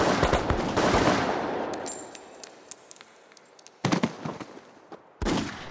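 Gunfire rings out in a reenactment of the Korean War civilian execution at Golryeonggol near Daejeon. A loud, sustained burst of automatic fire fades into scattered single shots, then two more sharp volleys echo in the open air.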